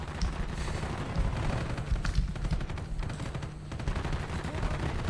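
Rapid automatic gunfire in Call of Duty: Black Ops, dense bursts of shots crackling close and loud almost without pause, with booming low impacts beneath.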